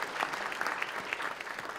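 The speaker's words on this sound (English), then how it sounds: "Please give her a round of applause" Crowd applause for a retired judge at a courthouse Law Day event, dense rapid clapping from a room full of people, moderately loud and steady with no talk over it.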